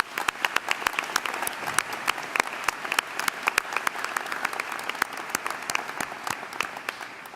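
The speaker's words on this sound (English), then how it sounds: "Let's give a big round of applause again to Professor Pam Bork and Professor Erica Ringelspa" A large audience at a university convocation claps steadily for two professors: dense, sustained applause full of sharp individual claps, filling the whole stretch at a fairly close, lively level.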